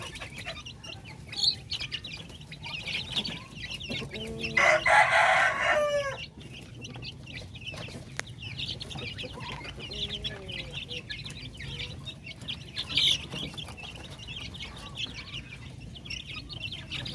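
Backyard hens and a rooster cluck steadily at a moderate distance, with one loud burst of crowing in the middle and scattered chirps over low outdoor ambience.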